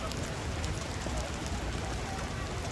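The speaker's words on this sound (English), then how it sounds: "I can't do anything until it stops raining" Steady rain falling on surfaces outdoors, a dense, even patter with a noisy low rumble, close and continuous throughout.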